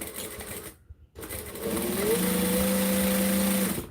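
Sewing machine speed-stitching small straps, starting with a brief whir, pausing in near silence, then running in a steady, close, high-pitched hum that speeds up into a sustained drone.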